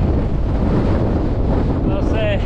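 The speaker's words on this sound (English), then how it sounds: "You can see it's a bit windy already." Strong wind blasts the microphone in a constant heavy rumble, with a short faint voice-like whine near the end.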